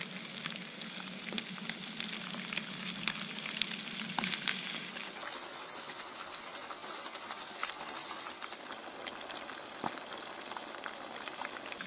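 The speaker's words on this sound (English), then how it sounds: "Okay, let's get this fish cooking." Crumbed mangrove jack fish pieces fry in hot oil with a steady, close crackling sizzle. A brief bubbling rush as more pieces go in gives way to continuous frying with scattered pops.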